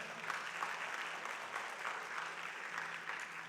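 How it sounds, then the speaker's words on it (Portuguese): Church congregation applause for a sermon line, a steady wash of many hands clapping, heard fairly faint and distant, continuing evenly through the whole short stretch. "As irmãs podiam aplaudir essa, né?"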